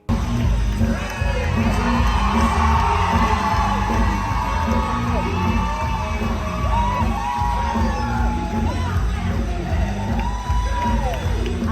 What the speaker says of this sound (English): The crowd was enjoying the show, but after she danced, it was a whole nother level of excitement